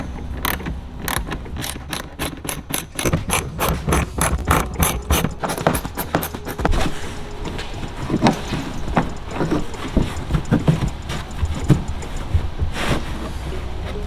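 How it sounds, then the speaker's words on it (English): A ratcheting driver with a T25 Torx bit turns out wheel liner screws on a Porsche Cayenne, giving rapid close clicking bursts followed by looser rattling and handling noise. "And you use a T25 Torx bit."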